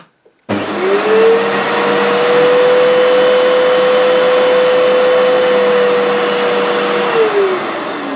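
A Hoover U3456 Purepower upright vacuum cleaner switches on after a brief silence and runs on its boost setting. The motor whine rises to a steady, loud, even drone, then starts to ease off near the end, with no talking.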